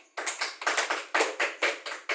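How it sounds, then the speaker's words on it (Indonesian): Hands clap in a steady run of about nine distinct, close claps at a training session, each sharp burst fading quickly before the next, with no talk over them. "Tepuk tangan untuk kita semua"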